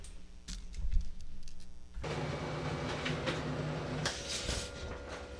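A Brother HL-L2460DW laser printer prints a page, giving a low mechanical whir and rumble with rolling feed noises and a shift in pitch partway through, steady and moderately close throughout.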